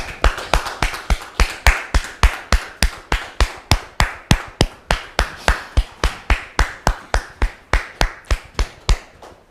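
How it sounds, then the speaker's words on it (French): Audience at a couple's-story show clapping in steady unison, roughly three sharp claps per second for about thirty even beats, loud and close, with no talking. "Merci de le recevoir sous vos applaudissements."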